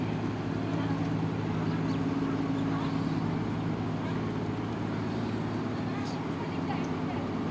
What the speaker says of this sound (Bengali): বোট চলে যাচ্ছে ফুল স্পিডে বোট চলে যাচ্ছে বোট যাচ্ছে